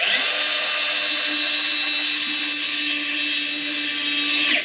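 A cordless pipe threader cuts threads on iron pipe by hand, giving off a steady, loud, high whine that holds unbroken and near for the whole stretch and then cuts off at the end.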